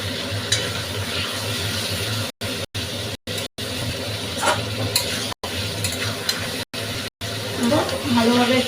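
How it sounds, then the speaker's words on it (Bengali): Fried potatoes tossed with spices in a pan give a continuous crackling sizzle while someone talks over it. The sound briefly cuts out several times. "এর মধ্যে ভেজে রাখা আলুটা দিয়ে দাও, দিয়ে একটুখানি ভালোভাবে কষিয়ে দেবো।"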